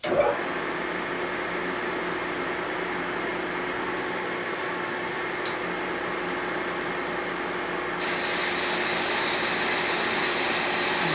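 Machine cutting a Harley-Davidson Panhead motor part for a land-speed race engine: a steady, loud mechanical whir that runs the whole time and rises slightly in level partway through, with no talk.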